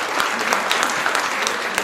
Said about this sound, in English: Everyone, a round of applause for Lisa.